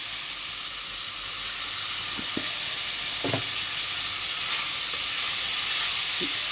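Uggani frying in a pan with tomatoes and salt gives a steady, close hiss and sizzle that runs throughout, with a few faint clinks of a utensil stirring.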